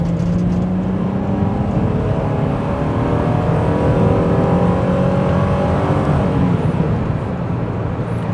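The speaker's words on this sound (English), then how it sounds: "It is a nice sounding engine" A Nissan Elgrand Highway Star (E51) V6 engine drones steadily and loudly while accelerating, its pitch climbing gradually over a constant road and wind roar.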